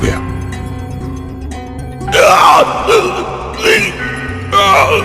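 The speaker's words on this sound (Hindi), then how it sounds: "वो दर्द के मारे जोर से चिल्लाया" A man screams loudly in pain as a horror-story sound effect, several strained, wavering yells in bursts over a dark, sustained musical backdrop.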